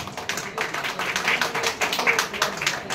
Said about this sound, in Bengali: জোরে করতালি হোক